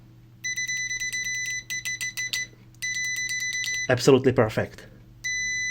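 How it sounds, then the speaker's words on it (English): Rapid electronic beeps from multimeter continuity tests sound in several bursts, steady and fairly loud, with a short spoken remark breaking in partway through. "Now let's test our beeping."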